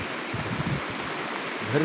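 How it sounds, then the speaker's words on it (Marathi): A flooded river overflows after a night of heavy rain, giving a steady, close rush of flowing water with low turbulent rumbling throughout. "नदीला पूर ओसंडून वाहत आहे"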